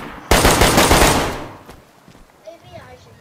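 A close, loud burst of rapid automatic gunfire in the video game DayZ rattles for about a second and then decays, followed by a faint voice.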